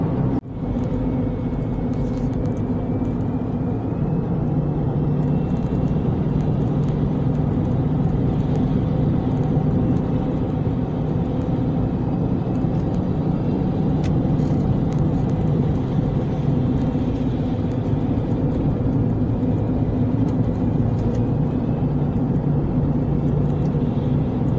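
A car driving along a road on a trip to a fishing spot, steady loud rumble of engine and tyres with road noise throughout, continuous and close with no talk.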